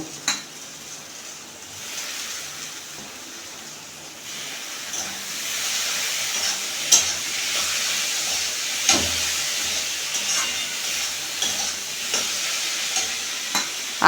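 Chopped tomato drops into a hot pan while cooking boro fish, setting off a steady sizzle and hiss that swells after a few seconds and holds, with occasional light clicks of stirring and no talk.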